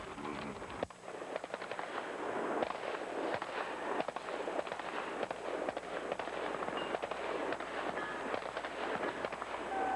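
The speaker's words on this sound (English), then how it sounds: "Paul Liebenberg is shooting an excellent round" Rapid pistol shots at the Bianchi Cup match in 1984, with Paul Liebenberg shooting the Barricade event at 25 yards. The sharp cracks come densely and steadily against a busy outdoor background, with no speech.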